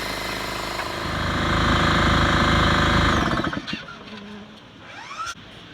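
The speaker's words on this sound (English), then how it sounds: "I'm in love with that compressor" A quiet air compressor runs close by with a steady, rapid mechanical chatter, then shuts down around the midpoint and spins to a stop.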